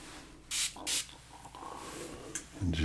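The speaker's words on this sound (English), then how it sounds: "give it a spray with distilled water." Two short, sharp hisses from a spray bottle of distilled water hit vinyl records, followed by soft rubbing and another faint spray, close and quiet.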